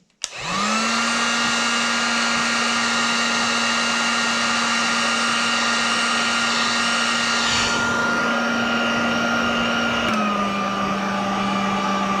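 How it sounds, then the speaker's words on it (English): A heat gun blows a steady, loud whooshing roar with a constant motor whine as it shrinks heat shrink tubing on a wire during a kerosene heater repair; the pitch dips slightly near the end. "Now you're going to do the same thing and give that a heat with your heat gun"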